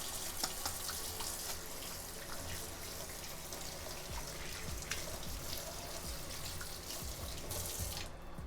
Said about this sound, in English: I had to wash the bacon grease off.